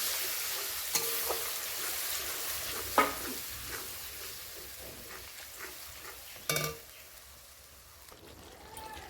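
Curd, cashew, poppy seed, cumin, chilli and ginger paste sautéing in a pan, a soft steady sizzle with a few sharp stirring scrapes and clinks, fairly quiet and close.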